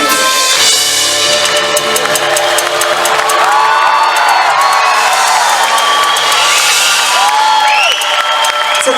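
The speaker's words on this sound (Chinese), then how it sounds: "这个掌声加尖叫声不是给我自己的，是给我们台上所有的乐手老师的" A concert crowd at a Kaohsiung singing show roars with sustained applause, high screams and whoops, loud and dense throughout with a voice briefly audible over the din.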